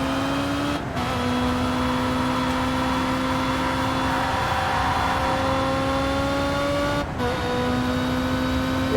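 A DTM race car in TOCA Race Driver 3 screams through a sustained high-revving engine note, rising in pitch, with brief gear-change dips near the start and end; no voices.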